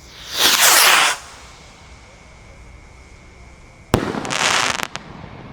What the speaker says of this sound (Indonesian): Ini roket terbesar, roket Roman Candle, siap meluncur bosku.